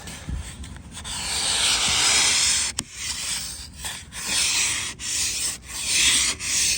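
A scrubber scraping ice off a car surface on a very cold winter morning, in repeated long rasping strokes with brief breaks between them, close and fairly loud.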